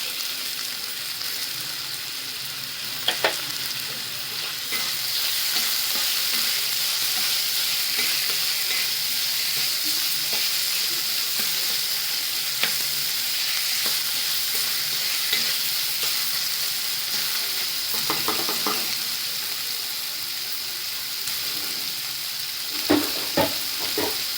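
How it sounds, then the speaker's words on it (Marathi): Chopped onion and tomato sizzle and fry in a pan while a spoon stirs them, giving a steady close hiss broken by occasional scraping clinks, with no voices. "कांदा चांगला नरम होईपर्यंत शिजवून घ्यायचा टॉमॅटो टाकते त्याच्यामध्ये"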